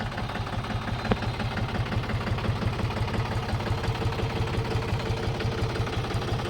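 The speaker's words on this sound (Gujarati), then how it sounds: "દસ ફૂટનું ટ્રેક્ટર છે જેનો અવાજ પણ આપ સાંભળી શકો છો" A 2009 Mahindra Bhumiputra 275 DI tractor in original condition idles with a close, steady diesel chug. Its evenly spaced low thumps repeat throughout, with no talk over them.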